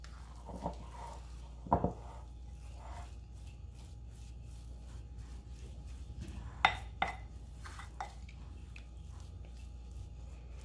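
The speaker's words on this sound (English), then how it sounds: "So let's go ahead and just continue to mix it. I just want to incorporate all this dry flour." A spoon working flour into garlic cheese biscuit dough in a bowl, soft irregular scrapes and a few sharper clinks against the dish, close and fairly quiet over a low steady hum, without speech.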